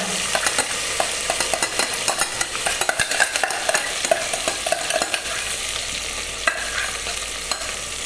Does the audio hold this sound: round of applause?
no